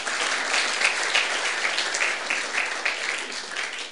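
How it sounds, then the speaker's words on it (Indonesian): A church congregation breaks into steady, sustained applause during a service, a dense wash of many hands clapping together at close range for the full stretch, with no voices standing out. "Tepuk tangan anak-anak Abraham."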